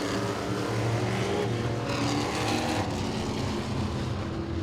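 Modified race cars roaring around Langley Speedway, a steady loud engine drone from the pack with swelling passes, heard from trackside.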